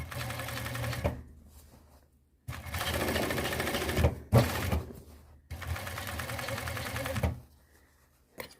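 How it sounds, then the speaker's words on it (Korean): An overlock sewing machine running on a replaced motor: three long, even whirring runs of fast stitching, each ending in a pause, the machine fairly quiet and close. "모다를 바꾸면 기계 소리도 조용해서 좋기는 해요"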